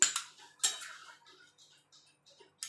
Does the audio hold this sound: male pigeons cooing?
no